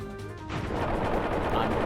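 Kirby launched from a cannon in a Kirby video game: a quiet moment gives way to a loud, sustained cannon blast with a rushing roar.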